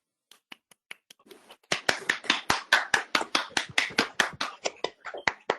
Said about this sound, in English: Please give him a loud applause if you can.